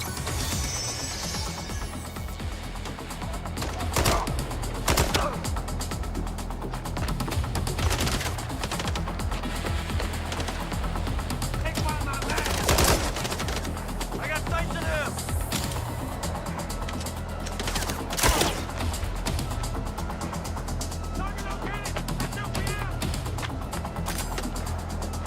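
Heavy gunfire in the video game Mindseye, bursts of shots cracking out at irregular intervals over a dense, noisy background of game sound, sometimes loud and close, with no talk.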